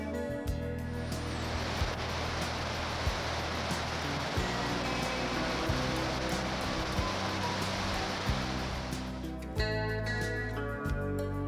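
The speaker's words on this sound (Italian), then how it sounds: "dai quali scendono alte cascate. Il loro rumore è l'unico suono che si avverte in giro." Tall waterfalls roar down into a remote Arctic river canyon along the Coppermine River, a steady, dense wash of falling water that fills the whole soundscape without a break.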